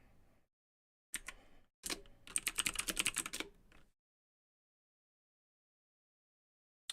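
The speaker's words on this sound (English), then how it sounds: "My keyboard is so clicky." Someone types quietly on an inexpensive generic mechanical keyboard. Clicky keystrokes come in two short bursts and then a longer rapid flurry, close-up, with silent gaps between them.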